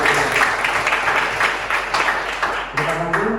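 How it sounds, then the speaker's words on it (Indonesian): A group claps together at the close of a classroom session, the applause steady and fairly close for a few seconds with a voice speaking over it. "Tepuk tangan untuk kita."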